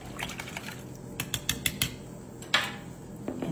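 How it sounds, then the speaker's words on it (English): A utensil clinks and taps against a dish while cobbler filling of chicken pieces and frozen vegetables is mixed, a close run of irregular light knocks and scrapes with no talk. "Give everything a really good mix."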